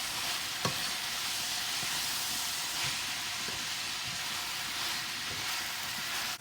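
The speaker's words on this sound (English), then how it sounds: "I'm cooking my Cho Cho." Chayote (cho cho) cooking in a pot, a soft continuous sizzle and steam hiss with a few faint scraping stirs of a spoon, quiet and steady with no talk.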